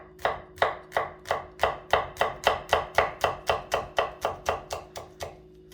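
A knife slices thinly through shallots on a cutting board, about sixteen crisp, evenly spaced chops in a steady rhythm, close and clear with no talking.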